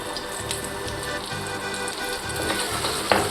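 Floured codfish (baccalà) sizzling in a hot pan, a steady crackling fry with faint low knocks underneath, close and continuous throughout.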